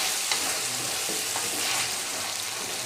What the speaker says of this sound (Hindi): अभी इनको अच्छी तरह से भूनेंगे